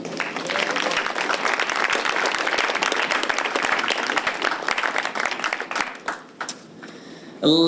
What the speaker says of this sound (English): I just want to first just give them a round of applause